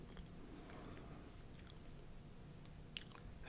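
Quiet, close crunching and chewing of a dry Korean snack cookie with a chewy, gummy-bear-like filling, steady soft mouth sounds with a few sharper bites and no talking.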